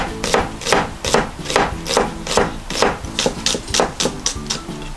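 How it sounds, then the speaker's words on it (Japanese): Onion is sliced with a knife on a wooden cutting board for an avocado salad, a steady run of about a dozen sharp close chops at an even rhythm, with no talk. "じゃあ、まず野菜から切っていきたいと思います。"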